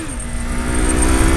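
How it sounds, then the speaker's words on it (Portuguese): Yamaha MT-03 motorcycle engine revving hard during a wheelie, a loud, steady high-pitched drone with a rising tone at the start, close and continuous with no talk. "Essa é uma moto gostosa de andar, mano."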